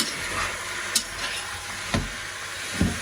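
Bell peppers with garlic and bay leaf sizzle softly in a pan while being stirred, three faint scraping strokes standing out over a quiet, continuous fry.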